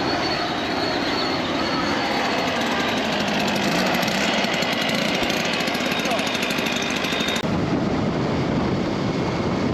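At a Nicaraguan border crossing, a leaf blower blasts off a traveller's motorcycle with a loud, continuous close-up roar of rushing air. The sound stays steady for almost ten seconds, shifting tone slightly near the end.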